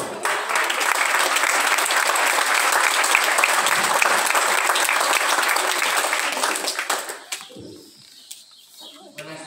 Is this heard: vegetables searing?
no